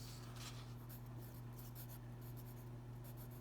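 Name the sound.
writing down math notes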